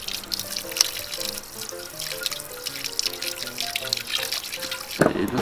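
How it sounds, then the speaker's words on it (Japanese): Water runs and drips close by as a juniper bonsai cutting's roots are rinsed, a steady splashing trickle lasting throughout over faint background tones, with a brief clatter near the end. "ちょっとね洗ってみますこれ"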